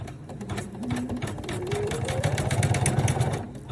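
Home sewing or embroidery machine tacking down elastic holding a metal D-ring clasp for a small fabric pumpkin keychain, a steady fast mechanical stitching whir with rhythmic needle pulses, close and fairly loud.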